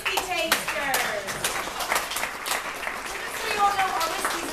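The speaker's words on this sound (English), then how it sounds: "But a round of applause for our whiskey tasters." Brisk clapping from a small group at a whiskey taste test, steady and close, with voices chatting and calling out over it throughout.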